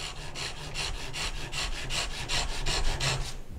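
Hand saw cutting wood while guided by a dovetail guide: steady back-and-forth strokes, about a dozen even rasping passes in quick rhythm, close and clear with no talking.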